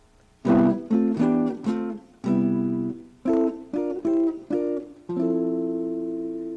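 Rich four-note guitar chords, each struck and allowed to sustain, come in a few clusters before a final long ringing chord. Clear and close, with no talking.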